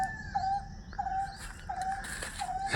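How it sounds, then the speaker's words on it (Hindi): An Asian koel calls from among lush green trees, several clear repeated whistled notes at a moderate distance over a quiet outdoor background with other faint birdsong. "कितनी बेहतरीन आवाज़ आ रही है यह कोयल की।"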